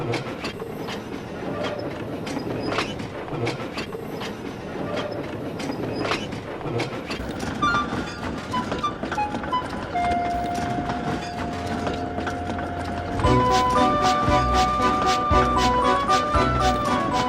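A model train hauled by a BoCo diesel locomotive rumbles along its track with steady clickety-clack, under a musical background whose tones grow louder toward the end.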